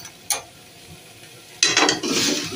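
Pre-fried vegetables are tipped into a pan and stirred: a quiet scrape and a single sharp clank early on, then a louder burst of sizzling and scraping that carries on to the end.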